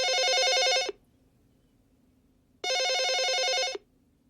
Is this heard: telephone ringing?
yes